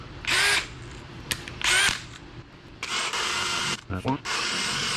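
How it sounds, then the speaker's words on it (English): A power drill breaking off timpani rivet heads, several short bursts of whining drilling with pauses between, close and fairly quiet, with brief metallic scrapes as the bit wobbles. "I'm going to drill in here and kind of wobble around a little bit just so we can break the head off"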